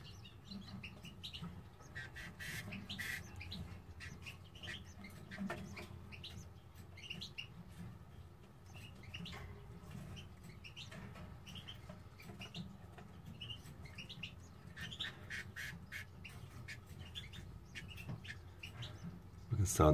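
A mother canary feeds her chicks in a cage. Their faint, rapid begging chirps and tweets come in scattered bursts over a soft background, while a person speaks quietly throughout.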